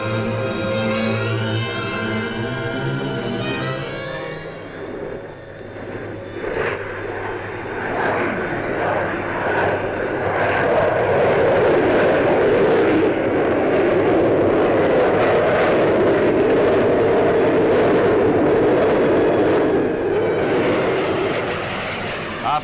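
A de Havilland DH-110 jet fighter flying a demonstration at the Farnborough air show, its engine noise building to a broad, sustained roar that swells and holds, with faint background sounds underneath.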